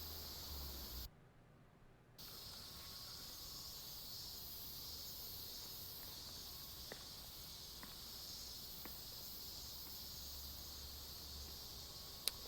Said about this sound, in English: Can hear like crickets and stuff.